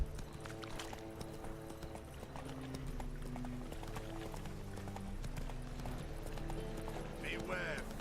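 Hooves of Roach, the horse in The Witcher 3, beat in a steady galloping clip-clop, soft and continuous under game music and character voices, with a short whinny near the end.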